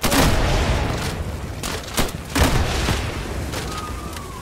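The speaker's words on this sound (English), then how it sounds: "I have rocket launcher capabilities" Rocket launcher fire in a video game, a series of loud booming blasts and explosions over a dense, noisy battle background, with sharp impacts repeating irregularly through the scene.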